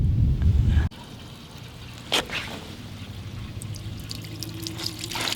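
Water fills a car fuel tank for pressure testing: a loud, low rush for the first second, then a quieter steady trickle with a few small splashes.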